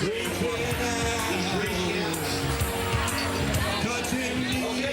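A dense parade crowd along the river in downtown San Antonio keeps up a steady roar of cheering, whooping and babble, with music and voices mixed into the continuous wash of sound.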